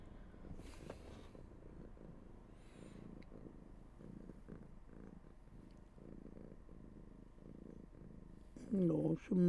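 A house cat purrs steadily and close by, with a low continuous rumble, while a person talks softly over it near the end.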